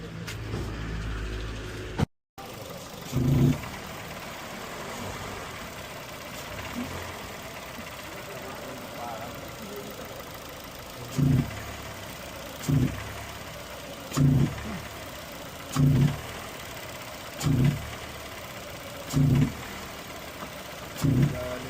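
An overhauled car engine idles with a suspected piston slap, a low steady run broken by regular, evenly spaced knocking thumps roughly every second and a half, fairly faint and heard close up.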